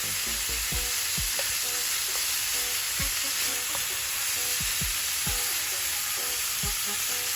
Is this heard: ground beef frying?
yes